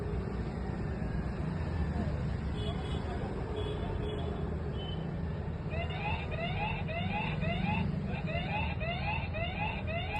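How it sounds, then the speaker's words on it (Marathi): A Trueview solar security camera sounds its siren, a repeating electronic warble that starts partway through and pulses steadily, heard under a continuous background hum at moderate distance. "अशा रीतीने आपण सायरन वाजवू शकता."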